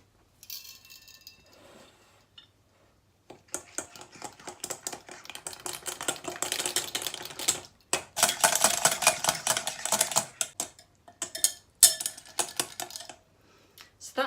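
A whisk beats runny waffle batter made with coconut flour in a bowl, giving a busy, loud run of rapid clattering strokes against the bowl with brief pauses between bursts.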